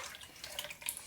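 Milk poured into a bowl while making matzo brei, a short splashy liquid trickle with a few brighter droplet splashes, close and fairly quiet, with no talking.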